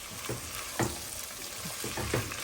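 A tomato sauce mixture with rinsed kidney beans is stirred in a pot for rice and peas, soft sizzling under several close scraping spoon strokes, no voices.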